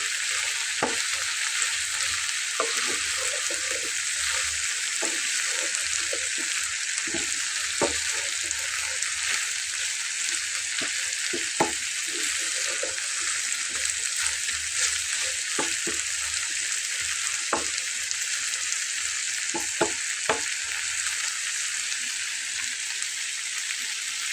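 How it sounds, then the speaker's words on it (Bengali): Okra, for a Bengali poppy-seed dish, fries in an uncovered pan with a continuous crackling sizzle, punctuated by scattered clicks and scrapes of stirring throughout. "তো এবার কিন্তু আর আমি ঢাকনা দিয়ে ঢেকে নেবো না, এবার আমি আলাদা করেই ভেজে নেব।"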